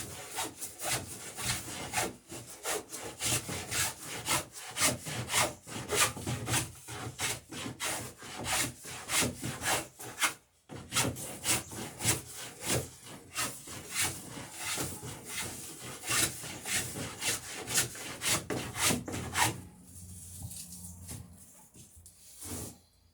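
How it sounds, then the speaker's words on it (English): A hand plane shaves a wooden strake on a lapstrake boat, giving close, rasping strokes in a rapid continuous rhythm that pause briefly and then fade near the end, with no talk. "Planing down onto the first board again."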